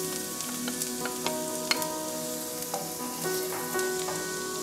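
Garlic cloves frying in hot oil crackle and sizzle steadily, with scattered pops and light clicks throughout the short stretch.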